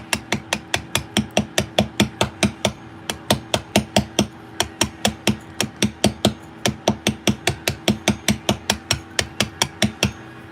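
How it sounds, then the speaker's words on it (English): A large hammer shaping a block of 27mm Derbyshire gritstone in a workshop, struck in a steady, fast rhythm of sharp, loud, ringing blows, around three per second, close up with no talking. "I won't be using this hammer for long. I much prefer my large hammer."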